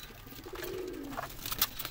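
Low, rolling coos come from a crowd of paired pigeons kept in a rooftop loft, one drawn-out call standing out midway amid soft chatter from the flock, close by and without speech.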